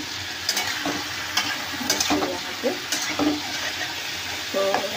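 Pointed gourd (parwal) fries in a pan with a constant close sizzle, broken by several sharp spoon taps and stirring scrapes, with no talk over it.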